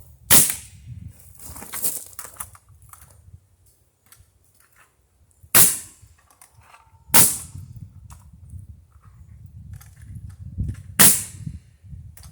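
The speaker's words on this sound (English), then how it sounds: "Probably cheating a little bit here using a nail gun, but this oak's hard to drive a nail in." A nail gun drives nails into hard oak scrap wood for a firewood rack: five sharp, loud pneumatic bangs at irregular intervals, with quieter handling and shuffling noises between shots.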